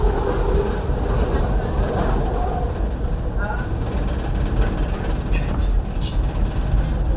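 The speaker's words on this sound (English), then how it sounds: "Very loud train noises" Very loud SEPTA Market-Frankford Line train running, a dense continuous roar with rattling and clattering wheels and a few faint squeals, heard from inside the car.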